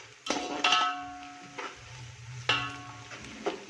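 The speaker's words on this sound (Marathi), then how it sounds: "आपल्याला थोडासा गुलाबी रंग येईपर्यंत कांदा परतून घ्यायचा आहे।" Onion is sautéed in a pan for chicken rassa, with a spatula striking and scraping the metal in a few ringing clanks over a faint background sizzle, and no voices.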